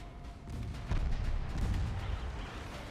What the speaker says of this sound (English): just damage this thing with my 3-inch guns